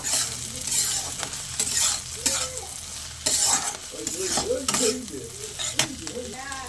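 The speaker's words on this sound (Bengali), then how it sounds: "আমি 5 মিনিট পর ঢাকনাটা খুলে এবারে সব কিছু একসঙ্গে খুব ভালো করে মিশিয়ে নেব" Egg and brinjal curry being stirred in a pan, a spoon scraping and knocking against the metal in irregular strokes over a soft sizzle, fairly close and with no talking.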